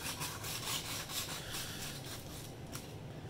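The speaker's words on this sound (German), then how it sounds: "Nehmen wir hier ein schönes Fleischmesser und schneiden jetzt" A meat knife slices through a roast Iberico pork joint cooked at 140°C. Close, rhythmic rasping strokes repeat steadily, with no speech.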